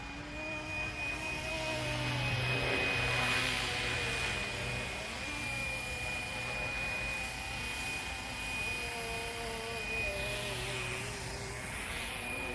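A Flywing Bell 206 RC helicopter with a four-bladed rotor flies outdoors, giving a steady high-pitched motor whine over a continuous rotor drone that swells and fades slightly as it moves, moderately loud, with no talk.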